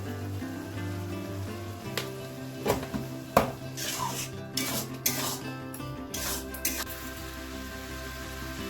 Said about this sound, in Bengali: আদা রসুন বাটাটা দিয়ে সামান্য একটু নাড়াচাড়া করে এবার এর মধ্যে দিয়ে দিচ্ছি হচ্ছে জিরের গুঁড়ো, নুন, হলুদ গুঁড়ো, লঙ্কার গুঁড়ো আর সামান্য একটু মিষ্টি।